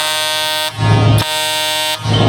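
A vehicle horn blasts in long steady honks, loud and near, with two brief breaks between the tones and no talking over it.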